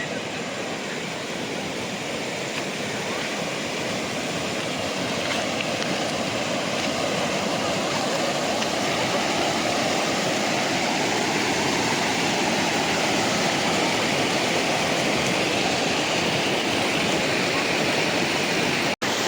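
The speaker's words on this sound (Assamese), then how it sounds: "নদীৰ চৰচৰণি মাতত একো শুনাই নাপায় ইয়াত" A fast river rushes loudly near the Kakoi area on the Assam–Arunachal border, a dense, unbroken roar of flowing water that stays close and steady throughout.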